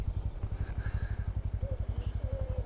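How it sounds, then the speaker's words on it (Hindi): Honda NS125 motorcycle riding on a mountain trip, with a steady rhythmic engine pulse and a light rattling clatter from the rear, running continuously and fairly close with no talking. "बाइक में पीछे से आवाज़ आ रही है"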